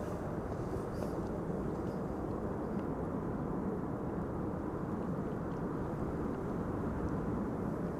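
A Boeing 777-200 airliner arrives at Amsterdam Schiphol on a frosty, sunny day, a distant, steady low roar of jet engines rumbling continuously without voices.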